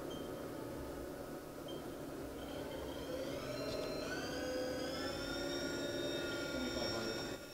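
A Haas TM-1P vertical machining center spindle rated to 6,000 RPM runs with a faint, steady hum. Its whining tones rise in pitch as it speeds up from about 1,000 RPM, all heard at a low level.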